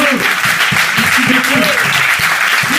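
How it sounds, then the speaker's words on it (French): Steady audience applause after a live music performance, loud and dense, with a voice talking over it throughout. "on applaudit"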